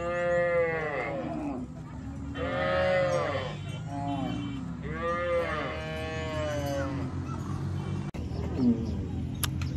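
Mundari cattle lowing in a South Sudan cattle camp, several long, loud moos in succession, some overlapping, with faint camp noise around them.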